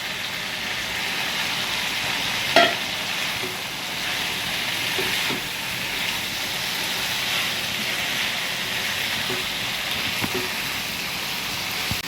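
Fried jackfruit and potato cook in a curry in a pan, giving a continuous broadband sizzle with a handful of faint clicks from stirring.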